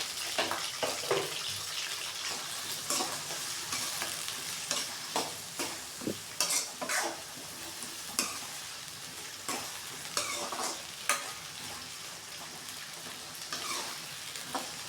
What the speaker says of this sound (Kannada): ಎಣ್ಣೆ ಕಾದಿದೆ, ಕರಿಬೇವು, ಹಸಿಮೆಣಸಿನ್ಕಾಯಿ, ನೀರುಳ್ಳಿ, ಟೊಮಟೊ ಎಲ್ಲ ಹಾಕಿ ಫ್ರೈ ಮಾಡಬೇಕು.